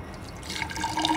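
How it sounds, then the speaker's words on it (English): Water poured into a welded-shut diesel engine part, a short steady trickling and dripping splash close by, with no talk. "let's put water in it and see if any water comes through"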